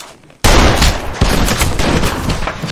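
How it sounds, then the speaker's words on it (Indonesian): Gunfire from a western film shootout: a loud, sustained burst of rapid shots erupts after a brief quiet moment and continues densely to the end, with no talking. "Sampai akhirnya Al pun ditembak mati."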